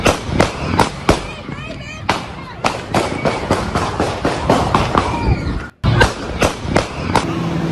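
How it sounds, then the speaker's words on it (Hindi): Sharp cracks of gunfire from a masked attacker's shooting in the United States ring out in rapid, irregular volleys across news footage, loud and close, with voices underneath and a brief near-silent gap before the shots resume. "जरा गोलियों की तड़तड़ाहट की आवाज सुनिए।"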